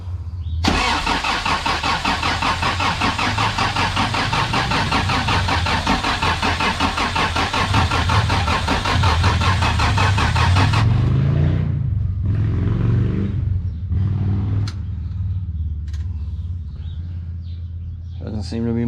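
A diesel engine swapped into a Toyota 4Runner cranks loudly and steadily for about ten seconds without catching, then stops, leaving a few faint clunks and clicks afterward.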